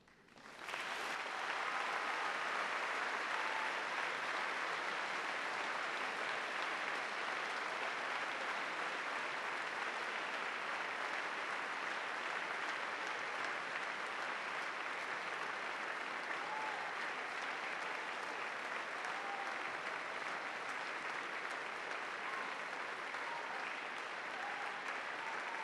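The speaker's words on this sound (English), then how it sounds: "applause" A graduation audience of families and friends gives a long, steady round of applause, the clapping loud, dense and sustained from start to finish with no talk over it.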